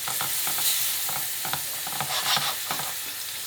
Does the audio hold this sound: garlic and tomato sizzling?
yes